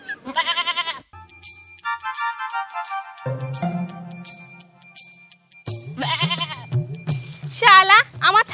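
A goat bleats in wavering cries at the start and again near the end, loud and close, mixed with jingling tones and a raised voice shouting in between.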